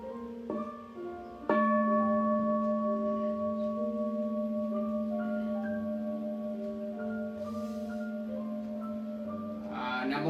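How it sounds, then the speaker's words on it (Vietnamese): A Buddhist temple bell is struck once, and its deep tone then hums and slowly fades across several sustained overtones, resonant and alone in a quiet hall. "Bây giờ mời đại chúng nghe tiếng chuông"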